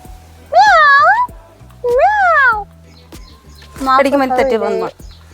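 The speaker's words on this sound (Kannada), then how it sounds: "ನಮ್ಮ ಬೆಕ್ಕು" A house cat meows three times near a home garden with coconut, tulsi and pomegranate plants, each call loud and drawn out with short pauses between them, and the last one is a longer, wavering cry.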